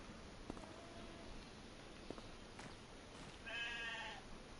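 Sheep and goats bleat in a farm pen in Farming Simulator 25, several short quiet calls and one longer wavering bleat near the end, set over a steady low ambient hum.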